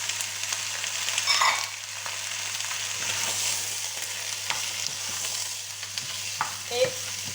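Carrots go into a turkey blanquette and are stirred in the pan, a close bubbling sizzle with scraping spoon strokes and occasional clinks, no talking.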